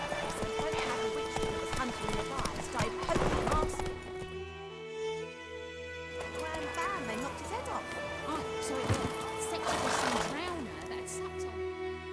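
Horse hooves trot in a steady clip-clop in The Witcher 3 around White Orchard, sounding close and moderately loud beneath game music, with a voice speaking over them.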